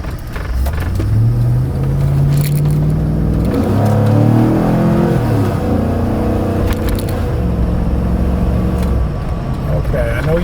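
A 2013 Avalanche truck engine revs at about 40% throttle, its drone climbing and falling through several close, loud pulls before settling back toward idle.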